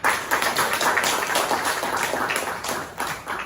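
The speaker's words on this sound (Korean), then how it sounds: "공개 세미나를 큰 박수와 함께 시작하도록 하겠습니다" Applause opens a public policy seminar, a moderate crowd clapping with some distinct individual claps audible in an uneven rhythm, tapering slightly near the end.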